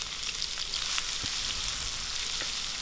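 Sliced onions sautéing in hot oil with curry leaves for a Tamil-style mushroom gravy, a steady close sizzle with a few soft stirring clicks throughout.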